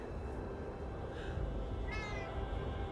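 A pet cat gives two short, faint meows in quick succession beneath a low, steady background hum indoors.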